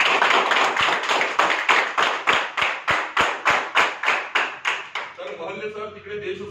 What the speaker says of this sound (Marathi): सगळ्यांनी तुम्ही एकदा टाळ्या वाजवून